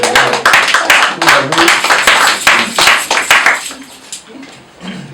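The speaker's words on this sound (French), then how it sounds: "Applaudissez au moins." Wedding guests clap at a ceremony, a burst of close, dense handclaps that thins out toward the end as a few voices murmur underneath.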